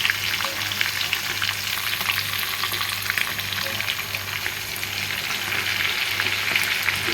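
Chicken frying in oil, a steady dense sizzle with bubbling crackle that continues evenly throughout, close and fairly loud with no talking.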